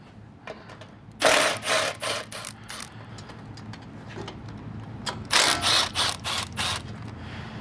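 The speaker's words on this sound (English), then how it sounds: "And then take your 10mm socket, and you're going to remove this bolt and this bolt." A ratchet with a 10mm socket working bolts loose on a 2021+ Ford F150 during a 6-inch lift kit install: two bursts of rapid, close clicking strokes separated by quieter pauses with faint handling noise.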